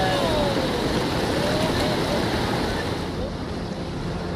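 Steady roar of the monsoon-flooded Dhela river rushing fast, a broad continuous wash of churning water with wind noise buffeting the microphone.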